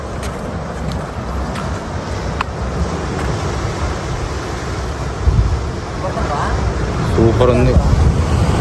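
Ocean waves rolling in at Vizag beach make a steady, loud surf roar mixed with wind buffeting the microphone, while people talk over it throughout.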